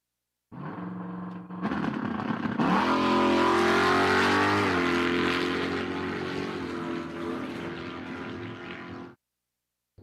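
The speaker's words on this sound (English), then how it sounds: "we got that quick S10, the blue S10 in the left lane in the burnout box" A blue Chevrolet S10 drag car in the burnout box at Empire Dragway revs hard and loud for several seconds, the engine note rising and holding before cutting off abruptly.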